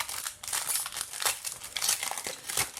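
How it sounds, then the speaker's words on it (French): Plastic wrapper of a Pokémon trading card booster pack crinkling and tearing as it is opened, a steady close-up rustle with several sharper crackling bursts, no voices. "on a en tout 12 boosters à ouvrir"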